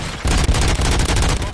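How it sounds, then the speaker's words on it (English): Rapid bursts of gunfire in the video game RoboCop: Rogue City, loud and dense, starting after a brief pause and continuing as a steady volley of shots with booming impacts. "Gunshots?"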